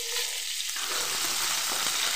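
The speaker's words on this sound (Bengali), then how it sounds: "মাছ ভাজাটা না নামিয়ে গেলে আবার পুড়ে যাবে এটা" Fish fries in a pan with a loud, steady, close sizzle that hisses evenly throughout with no talk.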